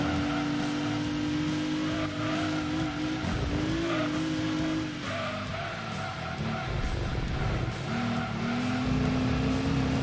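A Camaro race car in Gran Turismo 2 during an endurance race, its engine holding a steady high whine that shifts pitch as it accelerates, with tire squeal and other car engines mixed in, loud and continuous.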